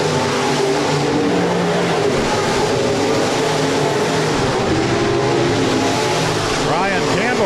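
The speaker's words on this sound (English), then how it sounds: "It's the USRA B-Modified A feature." USRA B-Modified dirt-track race cars roaring around Rapid Speedway during the A feature, a dense continuous engine drone with revving rising and falling as cars pass, under an announcer's public-address commentary.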